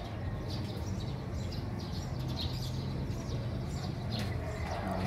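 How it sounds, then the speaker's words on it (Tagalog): Birds calling from a talisay tree outside a window, faint scattered chirps and tweets over a steady low background hum. "nasa bintana po ako nakapisto niyan, may mga ibon dyan"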